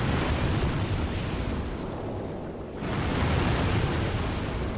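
Barrels blow up in a video game with a loud, continuous roaring blast that dips briefly and then swells again, a dense low rumble with no voices over it.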